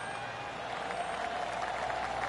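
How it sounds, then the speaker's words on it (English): A crowd applauds steadily throughout, a dense, even wash of golf-style clapping in a PGA Tour golf video game, with no distinct voices standing out. "Oh, golf clap."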